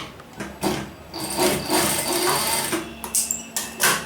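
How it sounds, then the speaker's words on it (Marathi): A sewing machine stitches a frock in short, uneven bursts of whirring, starting and stopping several times close to the microphone, with no talk. "बरोबर इथे एक टाका मारून घ्यायचा आहे"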